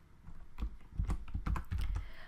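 Fingers tap the keys of a computer keyboard in quick irregular bursts, close and clear, with brief pauses between clusters of clicks.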